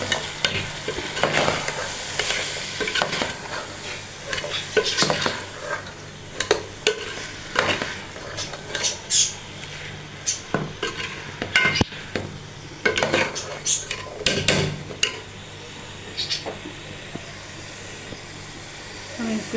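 Chopped capsicum fries with chicken in a pan, giving a steady sizzle broken by repeated clanks and scrapes of a spoon stirring against the metal, close and fairly loud, with occasional faint speech.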